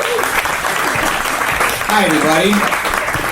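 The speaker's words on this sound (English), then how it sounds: "Please, big round of applause" A live comedy show audience gives a steady round of applause as a comic takes the stage, and the comic briefly greets the crowd over the clapping.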